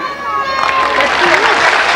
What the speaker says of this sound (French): Tu salues le public, on t'applaudit.